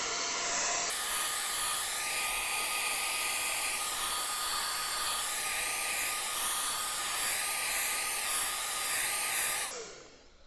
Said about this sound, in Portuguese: vou secar aqui um pouquinho com o secador de cabelo